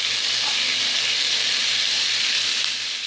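Chicken and vegetables stir-fry in melting butter over low to medium heat, producing a loud, continuous hiss that stays steady and even from start to finish with no voices.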